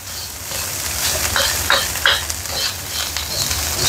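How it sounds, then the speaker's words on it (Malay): Fried rice with bird's eye chili is tossed and stirred in a hot pan, with a constant loud sizzle broken by scraping, clattering strokes of the utensil at irregular intervals. "Kita gaul lah nasi goreng kita."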